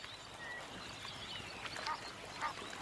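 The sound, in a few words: Egyptian geese calling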